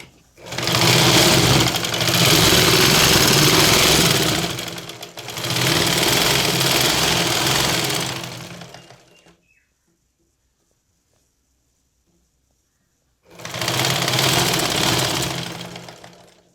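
An electric sewing machine stitches the slit of a churidar top in long, steady whirring runs, loud and close. Two extended bursts are followed by a silent pause, then another run of stitching, with no talking.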